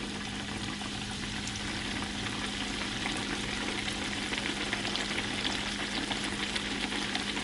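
A pan of food fries on a home stove with a constant, close crackling sizzle that holds steady throughout, no voices.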